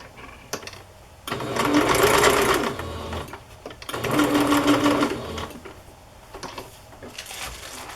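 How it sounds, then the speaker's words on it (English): Sewing machine stitching down a layer on a vintage-recipe paper craft page, two steady bursts of close mechanical whirring of about two seconds each, separated by brief pauses with small handling clicks. "I'll just sew this down."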